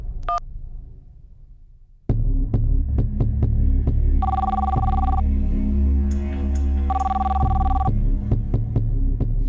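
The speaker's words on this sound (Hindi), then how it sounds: "भाभी आपका फोन है।" An electronic telephone rings loudly in repeated two-tone bursts over a steady low hum, starting abruptly after a quiet opening.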